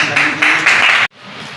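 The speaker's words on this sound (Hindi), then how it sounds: "ये भी ताली हो जाए थोड़ा" Short bursts of clapping for a top-scoring student at a block-level award ceremony, a few uneven surges that cut off abruptly, followed by quieter room sound.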